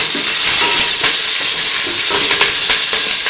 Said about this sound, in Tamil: அது பச்சை மிளகாய் நல்லா வதங்கிடுச்சு